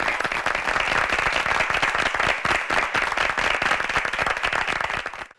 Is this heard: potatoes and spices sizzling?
no